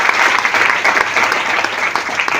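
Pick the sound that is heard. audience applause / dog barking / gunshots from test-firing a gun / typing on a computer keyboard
audience applause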